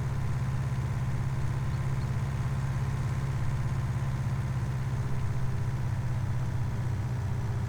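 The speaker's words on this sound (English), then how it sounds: "Hopefully this tractor can make this climb." Tractor engine in Farming Simulator 19 labouring up a hill, a steady low rumbling drone that holds constant and fairly faint throughout, with no talk over it.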